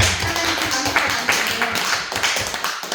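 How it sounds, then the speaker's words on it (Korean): A church congregation claps along at a Friday service, giving crisp, fairly close, rhythmic hand claps in a quick, regular pattern that carries on for a few seconds. "자, 박수 한번 칩시다."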